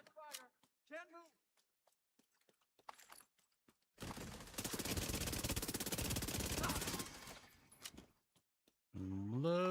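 Heavy sustained automatic gunfire from The Division 2 video game, a dense loud burst of several seconds, set between short stretches of game voices and sounds before and after.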